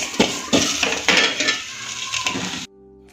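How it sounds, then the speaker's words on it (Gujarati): Fried taro is scooped from the pan into a separate cooking pot, with repeated scraping and clinking of a metal spoon against the vessel over a faint sizzle, ending abruptly in near silence. "હવે આને આપણે એક અલગ વાસણમાં લઈ લઈશું"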